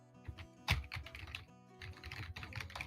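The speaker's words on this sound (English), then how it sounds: "let me bang on my new keyboard real quick" Keystrokes clatter on a new computer keyboard, a quick burst of close, irregular taps with one harder strike, pausing briefly before a second flurry of rapid typing.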